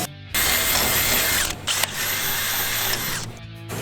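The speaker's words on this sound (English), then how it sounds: "Pre-drill the hole because the screw's not going to go in through the steel." A power drill whines loudly and steadily as it pre-drills a screw hole in steel, stopping briefly partway through before grinding on.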